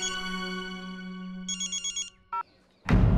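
A phone ringtone plays a sustained melodic tone, then a quick run of beeping pulses, a brief chirp, and a loud burst of noise at the end.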